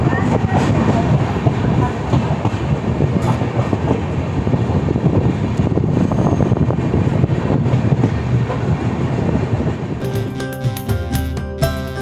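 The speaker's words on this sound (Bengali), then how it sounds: "পারসনাথ থেকে আমাদের ট্রেন ছেড়ে দিয়েছে" A Kolkata–Jammu Tawi Express pulls out of Parasnath station, a loud steady rumble with rhythmic clickety-clack of wheels on rails heard from inside the train, brief tonal squeals near the end.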